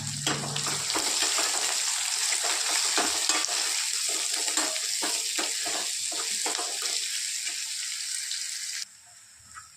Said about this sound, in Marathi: लसूण थोडंसं लाल झालं मग टाकणार आहोत आपण कांदा आता टाकत तो कांदा